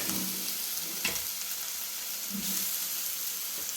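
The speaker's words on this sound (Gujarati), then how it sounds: "તો આ ઘી ગરમ થઈ રહ્યું છે મિત્રો." Ghee heating and sizzling in a pan for carrot halwa, a steady close crackle and hiss with a couple of sharper pops, no voices.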